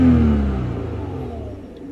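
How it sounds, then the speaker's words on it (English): A car engine climbs from idle in a quick rev, then its pitch and loudness slowly sink back, a close single whir-and-drone lasting under two seconds. "I'll rev it up a little bit."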